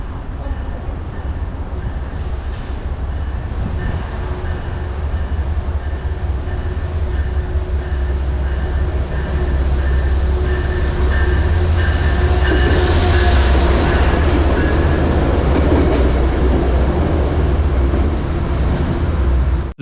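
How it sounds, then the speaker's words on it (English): A Metro-North deadhead train led by locomotive 214 rolls westbound through Bridgeport station, loud and close with a steady rumble, rail clatter and wheel squeal swelling midway. "Metro North Deadhead train 5539 runs westbound on track 3 through the Bridgeport station"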